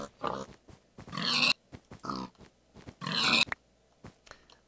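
Pigs in the video game Minecraft grunt and oink in short bursts, several close, loud squealing snorts separated by brief pauses.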